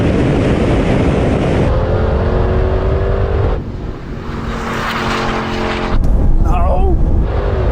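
Porsche and Audi cars accelerating hard in a rolling drag race from 50 mph, a loud close engine roar with gear shifts and rising pitch, wind noise throughout and talk mixed in.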